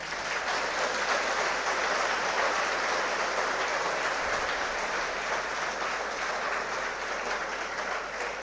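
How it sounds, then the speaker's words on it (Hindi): A seminar audience of rural students in India breaks into loud, dense applause for a speaker, a continuous wash of many hands clapping at an even level throughout. "एक बार जोरदार तालियां"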